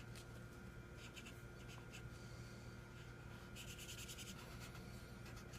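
A brown marker scratches camo shapes onto paper in quiet, close strokes and squeaks over a steady faint background hum, with no talking.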